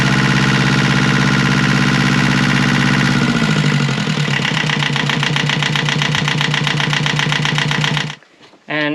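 An Alberg 30 sailboat's diesel engine runs loudly and steadily close by in its slip, its tone shifting partway through, then cuts out abruptly near the end.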